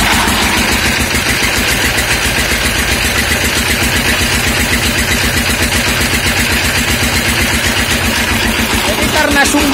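Diesel engine driving a used water pump that irrigates rice paddies, revved up, running loud and close with a steady rapid chugging throb that barely changes throughout.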